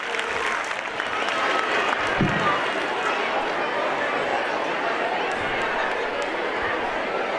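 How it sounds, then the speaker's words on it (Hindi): An audience at a 2023 annual gathering program at an Urdu-medium school claps steadily for the students, a dense, sustained wash of applause with faint chatter underneath. "इनकी हिम्मत अफजाई के लिए बगौर समात फरमाइए और जोरदार तालियां बजाइए।"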